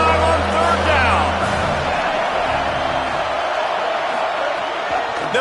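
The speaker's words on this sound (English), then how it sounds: "The Buckeye crowd alive on 3rd down." An Ohio State Buckeyes football stadium crowd roars on third down, a loud, steady wash of cheering and whooping that runs the whole time beneath a commentator's voice.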